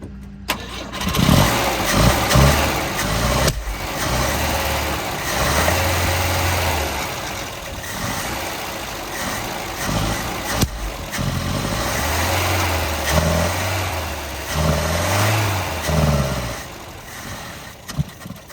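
A 1971 Volvo 142 with a carburetor running lean, cranking and catching, then running roughly with the engine revving up and falling back to idle again and again, loud and close, no voices.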